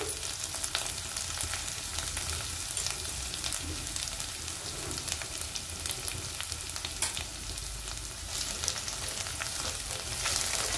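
Garlic, green chillies and turmeric sauté in a pan with a loud, continuous sizzle and occasional stirring, close up and with no voices.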